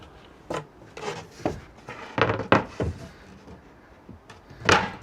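Drawer in a DIY camper van conversion built into a PV5 sliding out, a series of wooden thunks, scrapes and knocks of varying loudness, close by, with no talk.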